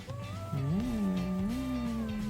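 A cat meows in a long, drawn-out, wavering cry, close and fairly loud, rising and falling in pitch with no talk over it.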